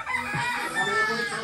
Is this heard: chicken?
yes